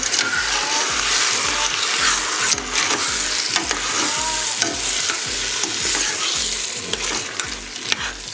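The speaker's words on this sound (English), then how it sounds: "we're going to give that a quick stir" A spoon stirs tomato sauce soup in a pot with continuous scraping and swishing plus a bubbling sizzle, loud and close with steady rhythmic strokes and no talking.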